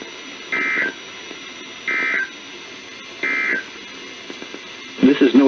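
NOAA weather radio EAS alert tones for a tornado warning: three evenly spaced digital data bursts, each under half a second, over a faint broadcast hiss, followed by the start of a voice.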